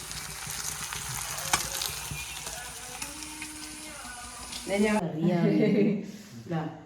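Hissing and crackling of prawns frying in a pan with occasional stirring, then a voice speaks over the sizzle toward the end.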